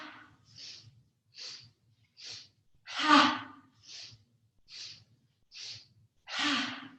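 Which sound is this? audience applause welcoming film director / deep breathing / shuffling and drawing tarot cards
deep breathing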